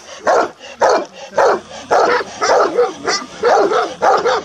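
A two-and-a-half-year-old Romanian shepherd dog at a farm near the mountains barks loudly and close by, in a rhythmic series of about eight deep, forceful barks with short gaps between them.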